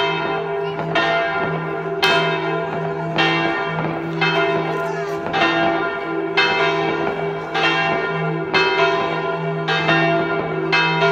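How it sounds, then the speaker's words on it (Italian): Church bells in Castropignano, Italy ring loudly at midnight on New Year 2020 in a steady, repeating rhythm of strikes, each leaving a long humming resonance that overlaps the next. "Auguri a tutti al suono delle campane, ferme da 19 anni."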